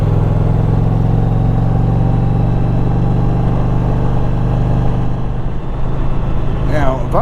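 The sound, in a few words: 2021 Indian Challenger motorcycle exhaust note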